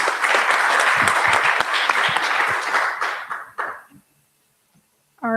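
A live audience at a political forum breaks into sustained applause after a candidate's answer, dense clapping that trails off and fades to near silence within a few seconds.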